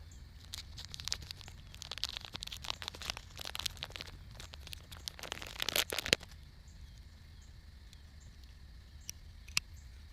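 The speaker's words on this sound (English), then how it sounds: "Freeze-dried meals, jerky bags, even coffee packets. The scissors slice right through." Multi-tool scissors slicing through crinkly outdoor food packaging such as freeze-dried meal and jerky bags: a fast run of close rustling, crinkling cuts that stops abruptly, then a couple of isolated clicks.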